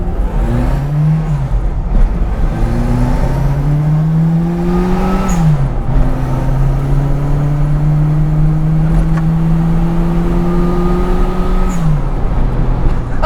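A fuel-injected 1979 Mini Special Turbo engine revs hard under throttle, its pitch climbing and dropping in repeated loud sweeps as the car accelerates, with steady road and wind roar underneath and no talking.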